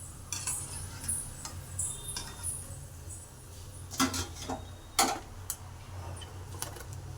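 Fried bitter gourd pieces are moved onto a plate with a utensil, giving light scattered clinks and scrapes over a low background hum.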